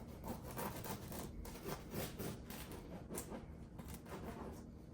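A knife saws back and forth through a large crusty bread boule, giving steady rasping strokes that are close and moderately quiet, with no talking.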